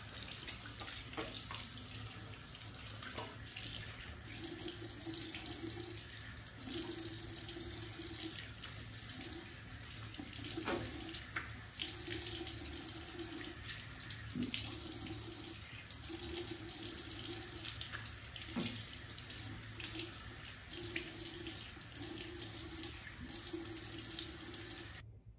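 Bathroom tap running steadily while a face is rinsed, a soft even stream of water with small splashes as hands move through it, close and quiet with no talking.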